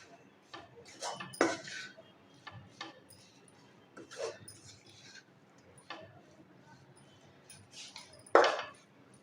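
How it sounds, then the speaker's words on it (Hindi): Bottle gourd halwa being stirred in a pan with green food colour mixed in, giving intermittent scraping and clinking of a utensil against metal, with a louder scrape near the end. "मैंने हाफ टी स्पून जितना इसमें ग्रीन फूड कलर शामिल किया है और इसको अच्छे तरीके से"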